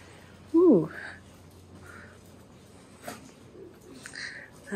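A pigeon coos once, close and clear, in a quiet outdoor street in La Coruña, Spain, followed by faint distant background sounds.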